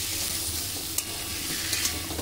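Pumpkin being stirred with spices in a hot pan, a continuous close sizzle with a single sharp scrape near the middle and a few softer clicks toward the end.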